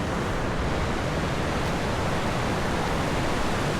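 Steady rushing creek water near a waterfall, a dense, even broadband roar that stays constant and close throughout, with no voices.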